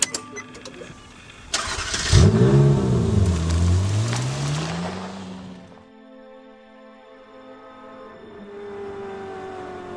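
A Ferrari 458 Spider starts up with a sharp crank and a loud revving flare, then settles back toward a quieter, steady engine tone while the car sits close by.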